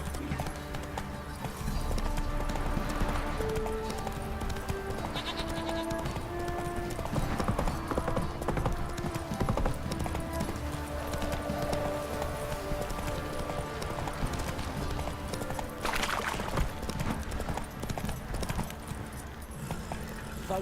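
Hooves of Roach, a horse in The Witcher 3, clip-clop steadily and quickly at a gallop, loud and close, running continuously across the whole stretch with occasional snorts and faint game ambience beneath.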